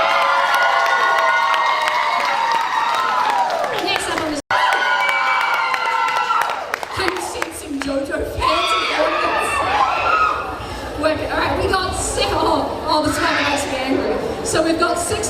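A cosplay competition crowd cheers and applauds loudly, with whoops and shouts over a continuous wash of clapping, and an announcer's voice joins partway through.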